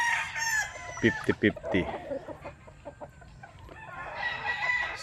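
Sweater gamefowl chickens from a game farm, kept with broodhens, cluck and crow close by in bursts, with a few loud calls near the start and someone talking over them.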